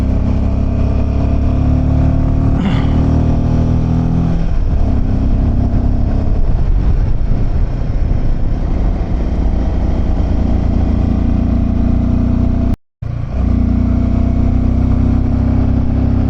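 A motorcycle climbing a cold high-altitude mountain road toward Umling La pass at over 17,000 feet, its engine droning steadily and loudly throughout, close up, with wind rush and small shifts in pitch and one brief dropout.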